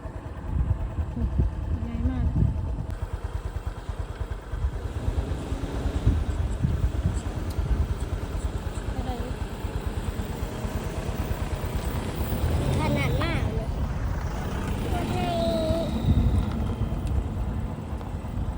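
A large vehicle approaches on a muddy, rain-soaked rural road in Laos, with a low engine rumble churning steadily underneath as people's voices chatter nearby over it.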